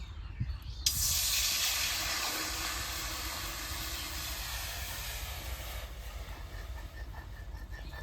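A sudden loud, steady hiss bursts in and keeps roaring as water hits a very hot wok, with faint rumbling underneath and no talking.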